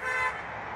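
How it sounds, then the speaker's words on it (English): A car horn honks from nearby traffic by a river, a steady, bright tone that stays loud for the first third of a second, then drops and carries on at a lower level. "I don't know if somebody's honking at me or what"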